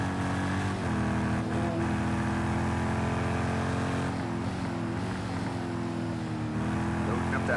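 Race car engine accelerating in a GT racing video game at Circuit of the Americas, a steady high-revving drone with gear changes and rising pitch, loud and continuous under commentary speech.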